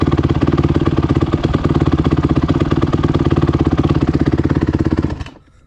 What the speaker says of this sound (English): Idles, but it's kind of a lower idle.